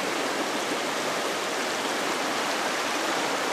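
Water of Lick Run rushes beneath a small footbridge along a forest hiking trail, a loud, steady broadband hiss of flowing stream heard close up with no voices over it.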